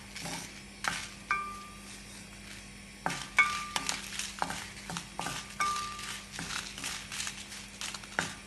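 Ingredients frying in a hot pan while making puliyodharai, a steady soft sizzle with a few metallic clinks of a spoon against the pan scattered throughout.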